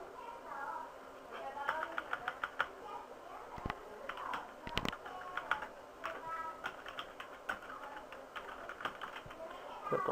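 A user name is typed on a computer keyboard in quick, light key taps, clustered in short runs with pauses, faint and close, while someone talks quietly over the clicks.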